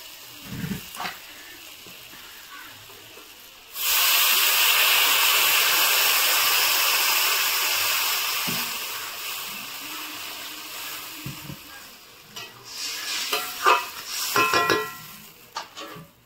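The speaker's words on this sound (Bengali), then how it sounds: "চাপা দিয়ে দিলাম, ভালো করে কষিয়ে নিয়েছি আলুটা। এবার আমি জল ঢেলে দেবো।" Water is poured into a pan of frying potatoes, bursting into a loud, sustained hiss of steam that slowly fades over several seconds, with clattering kitchen sounds before and after.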